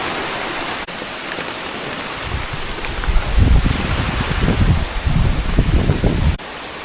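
Heavy rain drums steadily on a pole barn roof overhead, growing louder in dense waves midway before easing slightly.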